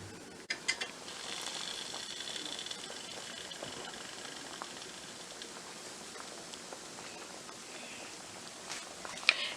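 Kalyana rasam with curry leaves and coriander simmering in a covered pot on the stove, a continuous soft bubbling hiss with faint patter and a few small clinks.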